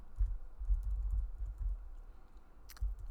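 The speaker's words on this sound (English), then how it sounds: "We'll start with an equal sign and we'll type out VLOOKUP" Typing on a computer keyboard, soft irregular key taps in quick bursts, close but quiet, with no voices.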